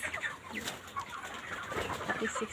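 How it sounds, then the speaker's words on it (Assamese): On a poultry farm holding about 1,500 birds 36 days old, the flock keeps up a continuous mix of high chirps and soft clucks at moderate distance, with no clear voices. "এয়া চাওক, এতিয়া বৰ্তমান 1500 পোৱালি আছে।"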